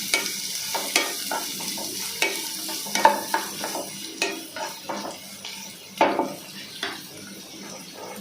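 Onion and chicken pieces frying and being stirred for a village-style chicken sukka, with a steady sizzle and a run of repeated close scrapes and clatters from a spoon against the pan.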